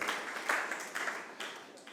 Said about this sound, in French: On peut vous applaudir déjà.